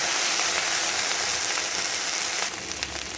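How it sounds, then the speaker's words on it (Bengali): Okra (ladies finger) fries in oil in a pan with a loud, close, continuous hiss and crackle that drops slightly in level near the end, with no talking. "ভেন্ডিগুলোকে তেলের মধ্যে খুব ভালো করে একটু ভেজে নেব"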